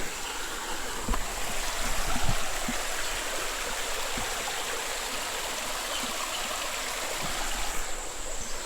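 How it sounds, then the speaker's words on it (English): A small stream of running water flows beneath a wooden rail trail bridge in a forest, a steady, even wash of trickling water heard from a short distance, with a few faint knocks and no talking. "A little bit of running water down there."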